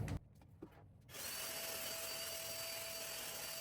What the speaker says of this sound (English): we got this anti-static blower here that's gonna help us